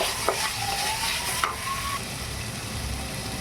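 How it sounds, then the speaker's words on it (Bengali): Green chillies and salt frying in a pan for semolina upma, a loud steady close sizzle with a couple of sharp utensil knocks and a scraping stir, with no speech. "ভেজে নেব"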